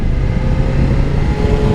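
A BMW S 1000 XR motorcycle's inline four-cylinder engine drones steadily and loudly up close, a dense continuous rumble with no speech over it.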